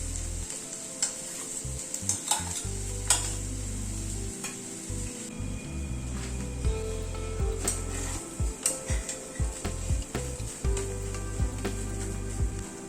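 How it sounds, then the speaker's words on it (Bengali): Potato stuffing with chicken fries in a pan for stuffed kakrol, sizzling steadily up close while a spatula stirs and scrapes the pan in an irregular rhythm. "আলুটাকে দিয়ে একটুখানি কষিয়ে নিচ্ছি সবকিছুর সাথে"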